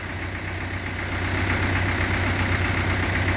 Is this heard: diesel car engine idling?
yes